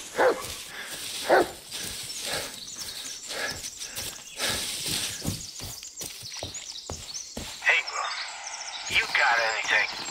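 A dog in the Blair Witch video game barks in repeated sharp yaps across the scene, mixed with game ambience and someone talking in between.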